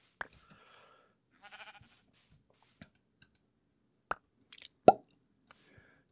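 A sheep in the video game Minecraft gives a short, wavering bleat among sparse clicks and soft pops from the game, with nothing else filling the quiet gaps.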